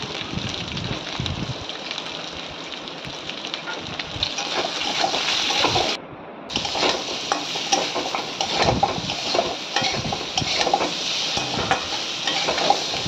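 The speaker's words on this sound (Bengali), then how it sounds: "এরপর এটা নুন হলুদ দিয়ে ভাজা ভাজা করে নেব ভালো করে।" Boiled papaya and potato being fried with salt and turmeric in a pan, a steady close sizzle with stirring and scraping throughout, broken by one brief pause in the middle.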